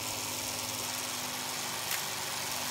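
A Brenell MK5 Series 2 tape recorder with magic eye rewinds at speed, giving a steady, dense motor whir and tape rush that holds level throughout, with one tiny click near the end and no voices.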